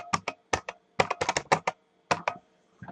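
Rapid clicks of a computer keyboard as an SQL query is typed, close and crisp in uneven bursts with short pauses, no talking.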